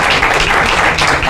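Audience applause fills a conference hall at a faith and mental health event, a steady, dense wash of many hands clapping together, loud and unbroken from start to finish.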